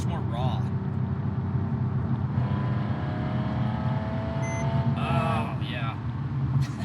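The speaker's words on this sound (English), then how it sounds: "the Valvetronic exhaust really brings this car to life." Porsche 997.1 Carrera S with Valvetronic exhaust rumbling steadily close by, a throaty continuous drone under a man's brief spoken remarks.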